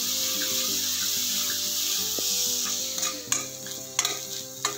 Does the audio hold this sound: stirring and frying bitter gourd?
yes